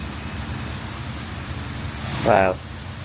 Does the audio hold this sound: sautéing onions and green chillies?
no